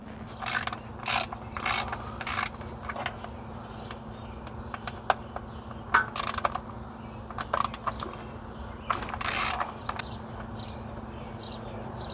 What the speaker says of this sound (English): So let's remove these bolts on this side.